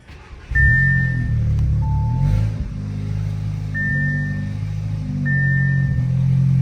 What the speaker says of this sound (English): Okay, so the car started with no problem.